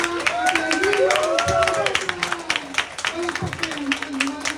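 A crowd claps together during a lively Filipino motivational event, a brief, dense patter of hands that rises and thins under an excited host's voice and cheering shouts.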